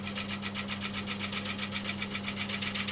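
A lathe tool takes a very fine cut across a large wooden platter, giving a steady, close rasping scrape with a regular pulsing rhythm over a constant motor hum and no talking.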